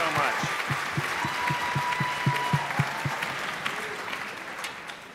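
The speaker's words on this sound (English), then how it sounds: "Can we please have a round of applause for Ms. Eisenman for helping us out?" Audience applause at an elementary school winter concert, a steady wash of clapping with some sharper claps standing out, while low murmuring voices carry underneath throughout.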